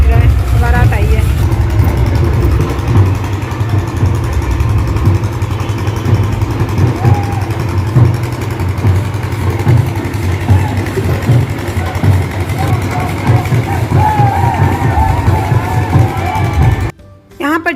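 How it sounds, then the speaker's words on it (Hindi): A loud generator drones steadily at a midnight wedding procession, a thick low engine rumble that fills the air and buries the music, with voices faintly mixed in. "यहाँ पर जनरेटर की आवाज़ इतनी तेज़ आ रही थी"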